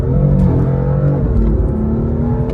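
BMW S55 engine with anti-lag building boost under hard acceleration, a loud, close, droning engine roar with rising harmonics held for a couple of seconds, no talk.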